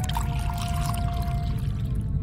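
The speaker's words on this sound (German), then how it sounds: "Ich gieße es zum Luminol in die Schale." Hydrogen peroxide being poured into a bowl of luminol in a detective adventure game, a steady, fairly loud liquid splashing and trickling that runs continuously with a faint tonal hum underneath.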